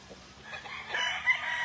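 A gamefowl stag, a local banded bird, crows at a gamefarm, its call rising from about the middle and swelling near the end, moderately close over a faint background hum.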